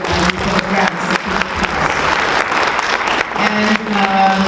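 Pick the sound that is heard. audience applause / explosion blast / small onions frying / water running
audience applause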